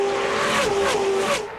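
IROC race cars roar past at speed on the Indianapolis oval, a loud, sustained engine drone with a pitch that shifts as the field sweeps by, fading slightly at the end.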